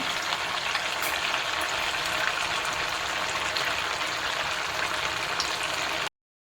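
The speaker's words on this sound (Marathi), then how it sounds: "तेलामध्ये सोडून देऊया चांगला ब्राऊन होऊन द्यायचा" Medu vada made from barnyard millet fry in hot oil, giving a steady, dense bubbling sizzle that stays loud and unbroken from start to finish with no talking.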